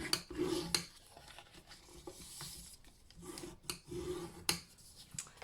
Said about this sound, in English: Try and really get a nice sharp burnish on them.